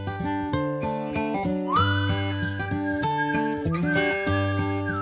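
A man whistles a lively, quick melody in Ezkio, clear and close with bouncy, shifting notes, accompanied by a steady low tone beneath.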